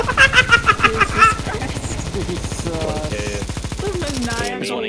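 Rapid automatic gunfire in Counter-Strike 2, loud and close, with a quick burst of shots followed by sustained steady firing, while a voice talks over part of it.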